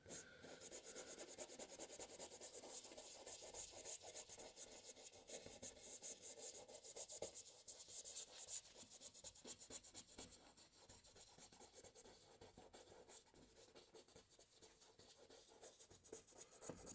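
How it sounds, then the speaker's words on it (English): A paintbrush drags paint across canvas in a continuous dry, raspy scrubbing, close and steady throughout with slight rhythmic strokes, no voices. "So you see I'm dragging paint and then I'm flicking the brush back over it to flatten it"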